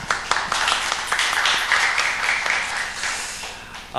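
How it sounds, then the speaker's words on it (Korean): A church congregation at a Sunday service applauds a visiting missionary: a steady wash of many hands clapping at once, fairly loud and close, holding for a few seconds with faint voices underneath. "우리 선교사님께 감사와 또 사랑을 담아서 함께 손뼉으로 격려해 주옵니다"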